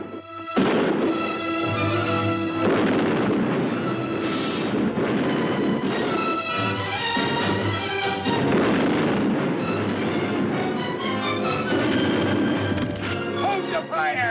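Gunfire and booming blasts from the 1954 pirate film Long John Silver's Return to Treasure Island, repeated loud shots mixed with a dramatic orchestral score and shouting voices, continuous throughout.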